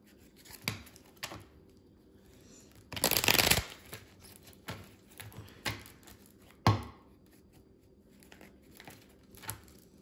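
Tarot cards being shuffled up close, with soft riffling and sliding, one loud burst of rapid flutter in the middle, and scattered taps and card slaps between quieter stretches.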